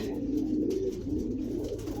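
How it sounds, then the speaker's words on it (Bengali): Pigeons coo softly and continuously nearby as a flock of about a dozen settles down, with a low steady background and no talk. "এই যে কবুতর আস্তে আস্তে নিচে নামতেছে"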